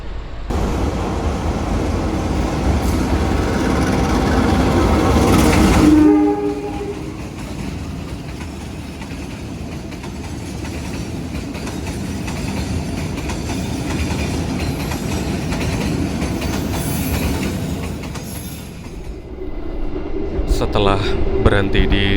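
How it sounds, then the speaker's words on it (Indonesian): Wijaya Kusuma passenger train pulling out of Surabaya Gubeng station, a steady rumbling roll of wheels and carriage noise with a brief horn-like tone early on, continuous and fairly close. "Setelah berhenti di Surabaya Gubeng kira-kira setengah jam, kereta Wijaya Kusuma diberangkatkan kembali."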